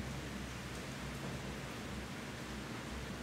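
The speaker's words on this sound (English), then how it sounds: "It's raining pretty heavily right now." Heavy rain falling outside makes a steady, dense hiss that holds even and unbroken throughout, with no voices.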